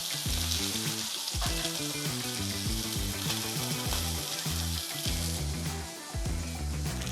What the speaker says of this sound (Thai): ระหว่างที่เราย่างไก่อยู่นะครับ